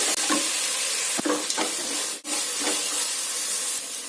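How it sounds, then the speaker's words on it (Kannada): Fenugreek leaves with turmeric frying in a pan, giving a steady close sizzle broken by a few sharp stirring scrapes and clinks. "ಈಗ ಇದನ್ನ ಚೆನ್ನಾಗಿ ಫ್ರೈ ಮಾಡ್ಕೊಳ್ಳಿ"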